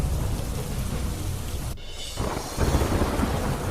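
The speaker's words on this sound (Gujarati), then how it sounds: "નવસારીમાં ભારે વરસાદથી પાણી ભરાયા" Heavy monsoon rain pours down in Navsari, Gujarat, a dense constant hiss of rain on surfaces with a low rumbling swell of thunder midway, loud and continuous, no voices.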